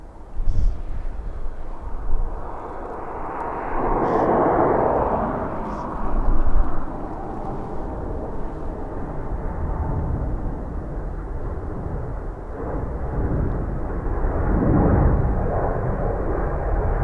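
Emirates airliner taking off at Dublin Airport on a windy day, a broad roar that swells and fades with heavy wind buffeting the microphone throughout.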